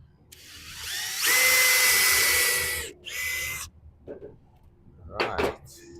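A power drill whirs in a few bursts while making brackets to mount lamps on a gate, one long steady run followed by shorter spurts, fairly close, with quiet knocks between.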